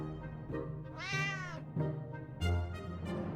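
A cat meows several times in the video game 60 Seconds! Reatomized, with a drawn-out rising call followed by shorter mews, loud and close.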